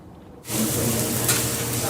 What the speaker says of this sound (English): The hash browns are sizzling